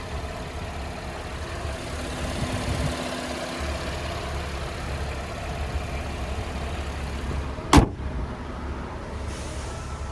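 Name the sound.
Chevrolet Camaro 3.6 V6 engine idling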